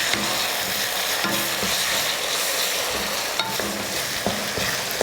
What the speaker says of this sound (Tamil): இப்போ இதை நல்லா வதக்கிடலாம்.